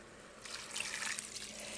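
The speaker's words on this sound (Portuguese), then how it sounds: "Vamos colocar água." Water pours into a cooking pan on a stovetop, a soft continuous trickle that swells in the middle and lingers faintly, heard alone at low volume.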